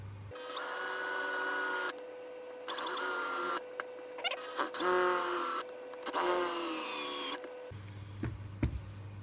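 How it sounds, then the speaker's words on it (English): A power drill with a Forstner bit whines in several bursts, boring into the bottom of a wooden piece with rising, grinding tones between short pauses and clicks of handling. "I've got myself a little drill bit, Forstner bit here, and I'm going to see if I can drill a little hole"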